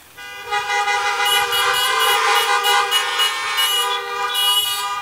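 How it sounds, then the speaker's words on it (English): Many car horns honking together at an outdoor graduation celebration, a loud sustained overlapping blare lasting several seconds with brief extra toots layered on top. "Let's give them all a honk."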